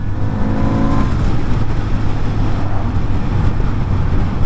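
A 2022 Kawasaki Z900RS motorcycle engine under way, a loud, steady drone with a low harmonic hum that briefly rises in pitch before settling into a continuous rumble mixed with wind noise.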